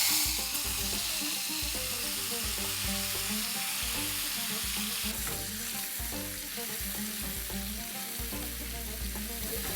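Masala mixture for mutton boti masala fries in hot oil with a steady, loud sizzle that runs the whole time, while a spoon scrapes and stirs through it at an uneven pace.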